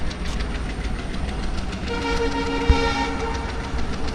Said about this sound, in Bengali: গাইস ওই ট্রেনটা এখন আইছে,